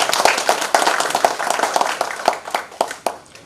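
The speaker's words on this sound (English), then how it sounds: "So I think we should give him a big clap." A small audience claps at a talk honouring a man who earned a doctorate at 65: a short burst of sharp, fairly close hand claps, somewhat uneven and thinning out after a few seconds.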